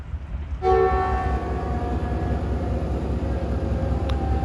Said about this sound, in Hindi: ग्रीन लाइन गुजरने के तकरीबन 3 से 4 मिनट बाद डिपार्चर विसल हो गया है 7 अप तेज़गाम का